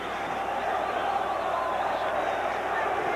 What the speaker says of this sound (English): All that cheering makes a big difference to those players down there.